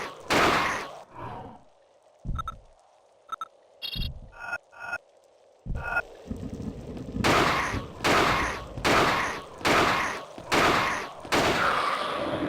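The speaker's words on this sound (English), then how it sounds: "It's a double-barreled revolver." Double-barreled revolver fire in the game Alone in the Dark: The New Nightmare: scattered sharp shots, then a fast run of loud, evenly spaced blasts in the second half, with no voices.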